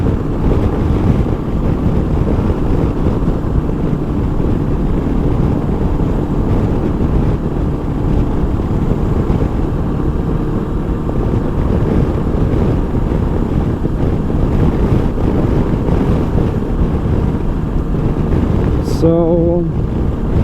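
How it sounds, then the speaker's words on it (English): Strong wind buffets the microphone while riding a 2019 Honda CB500X motorcycle, continuous loud gusts, a roaring rush that never lets up. "it's like gusts, you know, gusts of wind, and that's not really nice"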